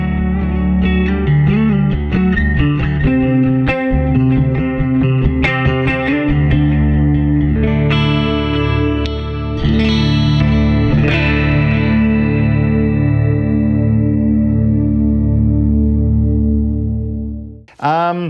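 Electric guitar played through a Mooer GE200 multi-effects unit, a loud continuous run of chorused, distorted chords and notes with echo, ending in a brief squealing pitch bend and abrupt cutoff.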